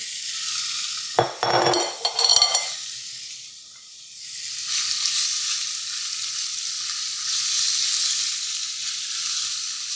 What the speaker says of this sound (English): we're gonna put some olive oil in here. Yum, yum. And we're gonna put our chicken in here. Sizzle, sizzle